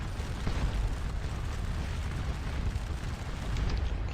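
Cannon fire in a Waterloo battle video game sounds as a dense, continuous roar of distant booms and battle noise, steady and loud throughout with no clear gaps.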